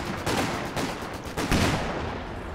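Land Mattress rocket artillery barrage in Company of Heroes 2, a rapid ripple of launches and blasts in overlapping bursts, loud and continuous with a heavier surge about midway.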